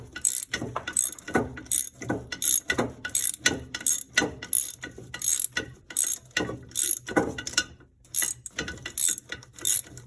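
A socket ratchet loosens manifold bolts on a 1966 Dodge Dart GT Super Six, sharp close clicking bursts repeating in rapid strokes with brief pauses between.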